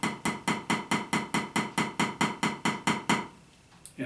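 Thirteen evenly spaced sharp drum flams strike in a steady rhythm, each a doubled hit ringing briefly before the next, then stop, leaving a faint tail and a final soft tap.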